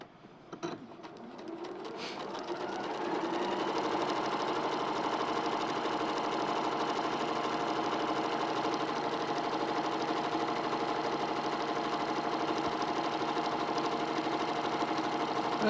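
Sewing machine stitching a quarter-inch seam on a quilt, a steady continuous mechanical whir that starts after a few soft handling sounds and runs evenly and close throughout.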